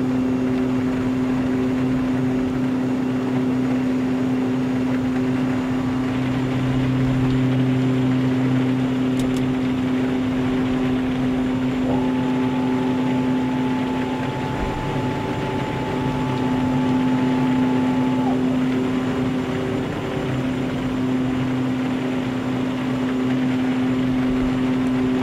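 Twin Otter twin turboprop engines droning steadily in the X-Plane 11 flight simulator during an approach to Papa Westray, a loud constant hum with a faint tone rising briefly midway.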